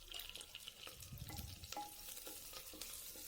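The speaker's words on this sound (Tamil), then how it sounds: "மிளகாய் கருவேப்பிலை சேர்த்ததுக்கப்புறம் நல்லா வதக்கி விடுங்க" Chillies and curry leaves are sautéed in a clay pan with shallots, a faint soft sizzle broken by scraping stirs and brief clicks of a spoon.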